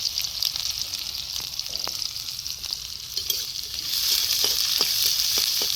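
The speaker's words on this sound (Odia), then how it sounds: "ପଡ଼ିଗଲା ଫୁଟଣ ଖଟ ଖଟ ସାଉଣ୍ଡ ହେଲା" Spices tempering in hot oil for drumstick leaf dal give a steady close sizzle, broken by sharp scattered crackles and pops that grow busier toward the end.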